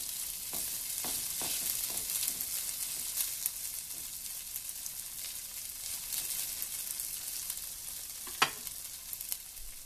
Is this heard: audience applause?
no